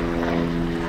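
An airplane passes overhead with a steady, droning propeller hum that stays loud and constant, alone with no talk.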